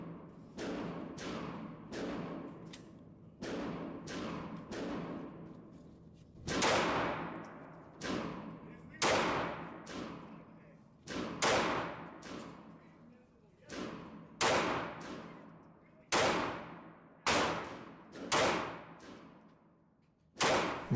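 A Taurus PT-709 Slim 9mm pistol fired at a target at a range, about twenty sharp shots in quick bursts with brief pauses, each crack decaying into echo.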